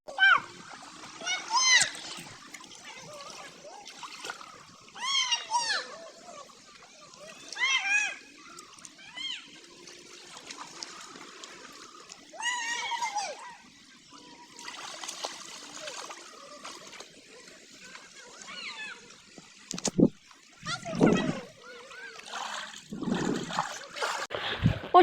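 People bathing in a river, with water splashing and trickling in scattered bursts beneath steady chatter from children and other voices throughout.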